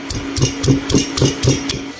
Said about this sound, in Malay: Tumbuk ke 4 bahan.